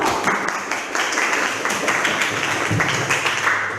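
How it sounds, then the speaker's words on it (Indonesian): Classroom applause for a student, a brief burst of clapping by a group of pupils, fairly close and loud, with individual hand claps standing out in an uneven rhythm throughout. "Beri tepuk tangan untuk Timo."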